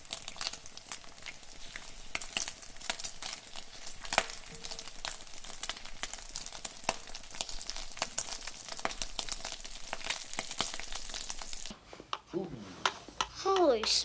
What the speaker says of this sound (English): every time there's a splash, you audibly hear that crackle sound